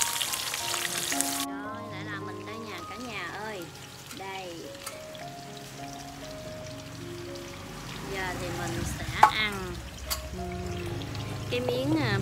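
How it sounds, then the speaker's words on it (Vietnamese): Oil sizzles and crackles steadily as young jackfruit fries in a pan over a charcoal stove, a soft continuous frying hiss heard up close while a person talks over it. "Rồi mình đem qua bếp than mình chiên."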